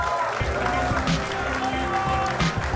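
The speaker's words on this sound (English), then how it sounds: "a round of applause for Soroidi69." Dense clapping from a crowd at a live Clash Royale tournament in Helsinki fills the clip steadily, with a voice speaking over the applause.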